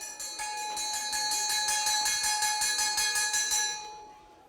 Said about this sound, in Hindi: घंटी बज गई भाई,